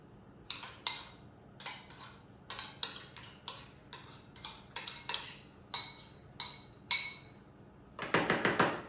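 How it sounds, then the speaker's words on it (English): A metal whisk beats yogurt into a Greek courgette tart filling in a bowl. The clicks are close and rhythmic, coming steadily at an even pace, then they speed into a quick flurry at the end. No one speaks. "And give that a whisk."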